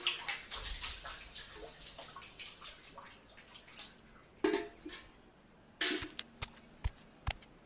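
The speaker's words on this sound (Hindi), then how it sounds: "बाल्टी का बचा हुआ पानी छत पर फेंक कर नीचे" Leftover water from a bucket is flung onto a rooftop, heard as sharp splashes and slaps at close range, with scattered drips and knocks following.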